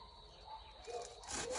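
A homemade saw converted from a chainsaw cuts through material with a continuous rasping, grinding whine that grows louder and brighter toward the end.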